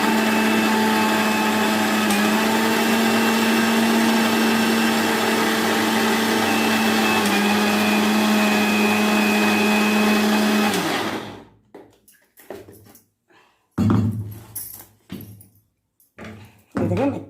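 A kitchen mixer grinder whirs loudly and steadily while grinding urad dal into idli batter with salt, then cuts off abruptly, leaving clatter and brief handling sounds.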